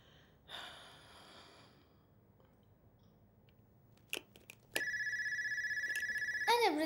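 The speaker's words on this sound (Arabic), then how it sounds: "أنا برد على التليفون" An electronic telephone ring starts after a couple of faint clicks and sounds as a steady, loud, repeating warble that carries on to the end over quiet room tone. A brief breathy sound comes earlier.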